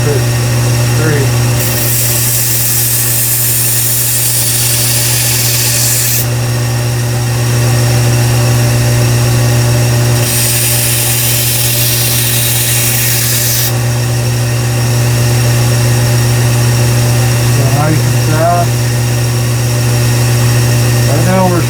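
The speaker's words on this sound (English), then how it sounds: "Right now we're sharpening above the flatten." A knife is sharpened on a Kalamazoo 1x42 belt sander: a steady, close motor whine runs throughout, broken by two long bursts of harsh grinding hiss as the blade meets the belt.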